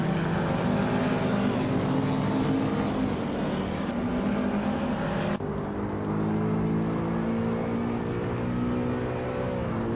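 Race cars in a video game roar continuously close by, engines droning and shifting pitch as they accelerate and jostle for position, loud throughout with no break.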